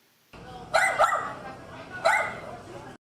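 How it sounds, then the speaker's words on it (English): Dogs at a pet store adoption weekend bark and yip in two sharp bursts with a whimpering edge, fairly close, over a low background murmur of the event. "Dogs eagerly greeted each passing visitor and got the chance to walk around"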